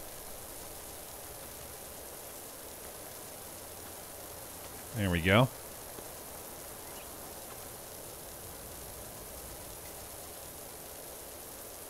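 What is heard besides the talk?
pressure washer spraying in video game PowerWash Simulator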